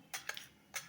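Mustard and cumin seeds crackle in hot oil in a kadhai, three brief sharp pops that are quiet and spaced apart, with near-silence between them.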